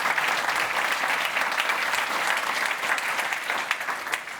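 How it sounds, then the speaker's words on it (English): An audience at a software security conference talk applauds steadily, with dense, even clapping filling the whole stretch and a few sharper individual claps near the end. "A warm applause."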